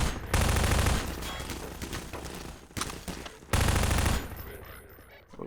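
Rapid bursts of automatic gunfire ring out in Half-Life 2: Lost Coast on hard difficulty, loud and close, coming in several heavy clusters with short gaps between them.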